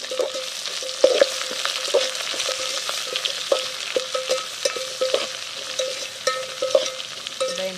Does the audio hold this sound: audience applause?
no